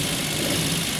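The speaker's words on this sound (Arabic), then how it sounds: "موتور يدور ربي يبارك مليح" A rebuilt Suzuki Alto engine, smoking and burning oil, runs at a steady, loud, close-up idle drone with no voices.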